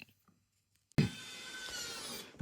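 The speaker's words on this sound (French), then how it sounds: "On va remettre toutes les vis" Screws go back into the housing of a Carpuride W702BS screen unit with a screwdriver, likely powered. The clip opens near-silent, then a sudden close whirring grind starts and runs steadily for over a second.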